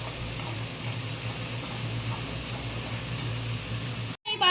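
Rui fish kalia sizzles steadily as it is stirred in a frying pan with mustard, poppy seed paste, cumin and pepper, a continuous close hiss with low bubbling that cuts out abruptly near the end.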